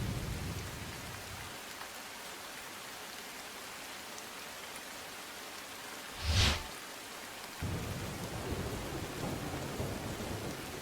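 A steady hiss of rain during widespread heavy monsoon downpours in Gujarat, faint and even, broken midway by one short, sharp crack of thunder before the rain noise swells slightly again.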